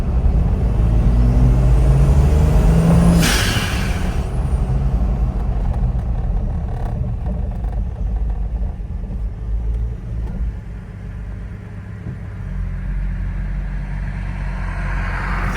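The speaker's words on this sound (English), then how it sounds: "Just slight throttle, I mean, this thing just wants to take off. The turbo spools up great." A turbocharged 4.7 stroker engine in a Jeep Wrangler Rubicon revs under throttle, with a loud, steady low rumble and a brief rising whine early on, settling into a sustained drone.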